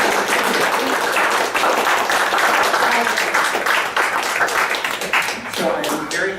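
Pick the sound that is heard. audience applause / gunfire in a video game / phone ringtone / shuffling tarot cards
audience applause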